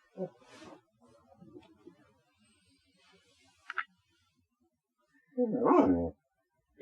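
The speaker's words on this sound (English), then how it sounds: "dog is barking." A dog barks a few times, faint and distant at first, then one louder, closer bark near the end, with quiet pauses in between.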